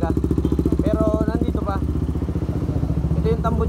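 Motorcycle engine running through a modified open exhaust muffler with a 61mm pipe: a rapid, throbbing, loud idle with close popping pulses throughout, while a voice talks over it.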